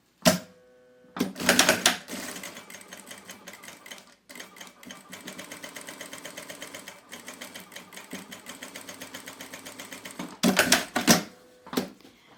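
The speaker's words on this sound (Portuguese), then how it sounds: "Agora aqui a gente vai costurar, já fazendo a bainha do meu saquinho e prendendo a minha fita." A sewing machine stitches the hem of a small fabric bag while securing a ribbon, running in a fast steady mechanical whir for several seconds between short louder bursts, close and without talking.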